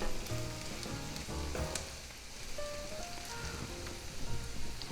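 Beef, onions and peppers sizzle in a frying pan while being stirred, a steady crackling hiss with occasional scraping knocks and some faint tonal clinks, fairly close and constant, with no talking.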